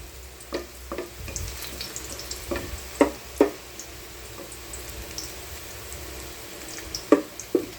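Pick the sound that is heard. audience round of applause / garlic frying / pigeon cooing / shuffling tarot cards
garlic frying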